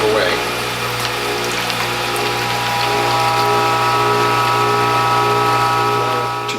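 A juicer fitted with a front-loading feed tube and a near zero blowback cutter shreds watermelon rind, giving a loud, steady motor hum with grinding and whirring that runs unbroken throughout, up close, with no talking.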